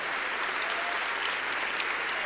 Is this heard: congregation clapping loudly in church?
yes